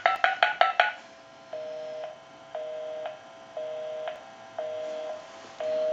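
Rapid burst of five touch-tone beeps from a memory-dial button on a repaired Spirit of St. Louis telephone, followed by a steady repeating busy signal pulsing on and off, close and clear with no voices.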